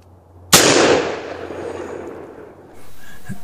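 A single loud black powder gunshot cracks sharply and rolls off in a long, fading outdoor boom, followed by quieter background noise.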